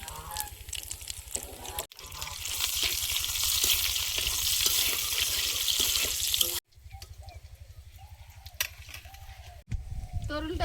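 Nigella seeds and chopped garlic are dropped into hot oil and sizzle. A loud, steady crackling hiss breaks off abruptly twice, and a low voice-like hum can be heard underneath.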